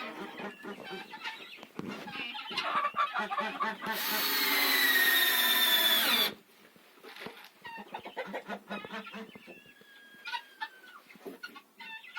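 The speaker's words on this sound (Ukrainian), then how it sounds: "Одна курочка вже зайшла, вже оцінює гніздечко." Hens clucking close by in short, irregular bursts, with a loud stretch of squawking and flapping midway, then softer clucks and calls.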